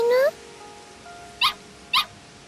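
Puppies in Sword Art Online: Hollow Realization give a high rising whimper at the start, then two short sharp yips, close and clear against a quiet background.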